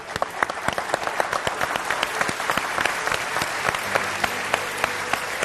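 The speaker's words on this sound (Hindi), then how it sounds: "एक बार इनके लिए ताली बजा देते हैं।" A television studio audience applauds during an election exit poll broadcast, a dense, steady patter of many hands clapping that continues evenly throughout at moderate loudness, with no voices over it.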